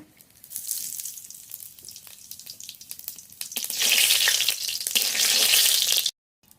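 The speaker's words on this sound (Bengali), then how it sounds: "গোটা জিরে ফোড়নে," Whole cumin seeds hit hot mustard oil in a wok, giving a steady close crackling sizzle that swells louder midway as the spices fry, then cuts off abruptly.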